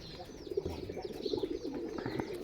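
Pigeons coo in a village coop, several birds overlapping in a steady, soft, throaty murmur that continues through the whole stretch with no talking.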